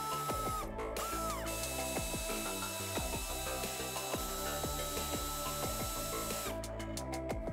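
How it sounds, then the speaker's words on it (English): A ratchet wrench backs out the fan shroud retaining bolts on a Chrysler/Dodge 5.9L V8 during a water pump job, giving close, rapid clicking bursts that repeat over a continuous workshop hum. "Remove the four retaining bolts holding the shroud in place."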